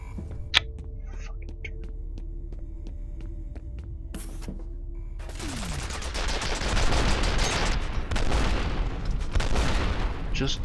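An automated turret in F.E.A.R. opens fire in a sustained, loud burst of rapid gunshots after a quieter humming stretch with a few isolated bangs.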